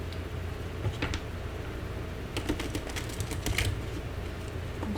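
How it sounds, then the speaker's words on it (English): Tarot cards shuffled by hand during a reading, a run of light papery riffles and flicks clustered in short bursts over a low room hum, close and fairly soft. "I'm just going to shuffle the cards a few more times."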